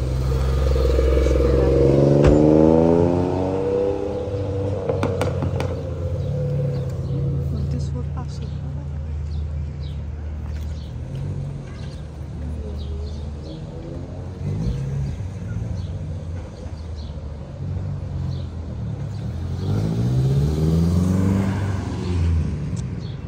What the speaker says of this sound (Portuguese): Deixa eu ficar parado, eles vão sair com o carro.